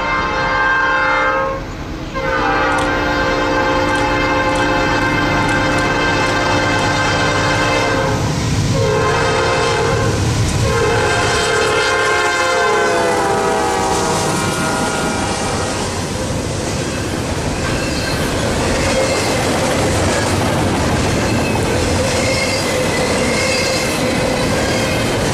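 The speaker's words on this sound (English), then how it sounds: "we got lucky to catch train 23D, an intermodal train out of Atlanta heading for Los Angeles" A Norfolk Southern intermodal freight train, train 23D out of Atlanta bound for Los Angeles, sounds its horn in long loud blasts, then rolls past close by with a steady roar of wagons and squealing wheels.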